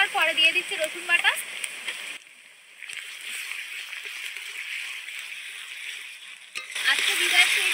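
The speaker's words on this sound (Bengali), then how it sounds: "পেঁয়াজটা ভালোভাবে একটু ভেজে নেওয়ার পরে দিয়ে দিচ্ছে রসুন বাটা।" Onion and garlic paste frying in mustard oil in a wok on a wood-fired clay stove, a steady moderate sizzle with a voice talking and birdsong at the start and end.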